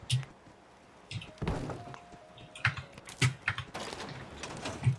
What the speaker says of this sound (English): let me put my door back.